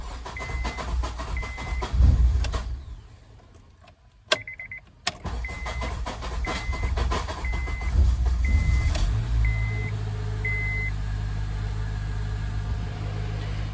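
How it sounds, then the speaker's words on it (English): A cheap used Honda race car cranking and hard starting, the starter churning in repeated bursts with door-open chimes before the engine finally catches and settles into a steady idle. "the one issue with it that I have noticed is it does hard start"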